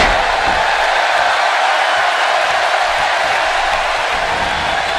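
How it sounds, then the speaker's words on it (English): A dense, steady roar of an arena crowd in the wrestling video game WWE 2K18, set in Tucson. The buzz is loud, continuous and broadband, with no clear breaks. "would you listen to the buzz of this Tucson crowd?"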